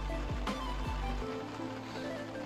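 Rain falling at Pelagićevo lake during a carp fishing trip, a soft steady patter of drops on surfaces, with a low motor-like rumble fading out early on.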